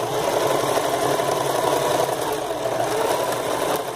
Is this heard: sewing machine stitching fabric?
yes